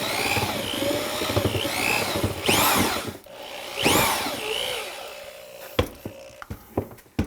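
A drill runs at low speed churning thick tile cement, with rising and falling whines and a few sharp knocks near the end.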